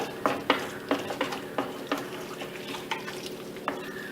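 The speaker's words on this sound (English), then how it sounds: "make sure you properly stir it, and that's how you do it" A spoon stirs Chettinad chicken gravy in a pan, with a dozen sharp irregular scrapes and taps against the metal over a soft steady sizzle, close and alone with no voices.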